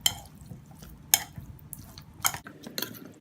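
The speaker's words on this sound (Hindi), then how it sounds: "हम अच्छा सा मिक्स करेंगे हाथ से ही, ताकि ये अच्छा सा सब जगह लग जाए।" Chicken wings coated in spices, salt and oil are mixed by hand in a bowl, giving a few sharp wet slaps and squelches separated by quieter rustling, close and alone.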